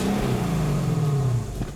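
A 2012 Infiniti M56X all-wheel-drive V8 revs, its engine note rising then settling back in a short, close, loud burst with no talk over it.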